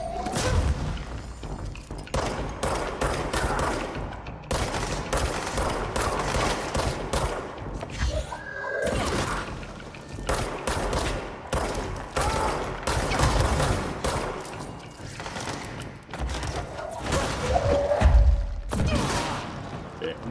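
Gunfire in the video game Control, dense bursts of rapid shots and thudding impacts repeating throughout a long firefight, loud and close with brief lulls between volleys.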